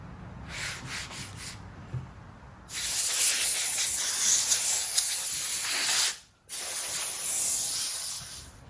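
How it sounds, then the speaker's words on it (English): Polyurethane finish sprayed onto a wooden piece, steady close hissing bursts with a brief pause between them. "I'll put another coat of polyurethane on it"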